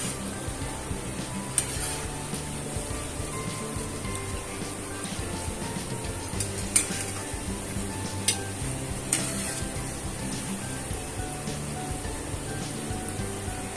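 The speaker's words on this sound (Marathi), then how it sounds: "चांगल्याला खरपूस रंग येईपर्यंत तळून घ्यायचे." Khava gulab jamun balls frying in hot oil until golden brown, a steady close sizzle and bubbling throughout with occasional small clicks and pops, no talking.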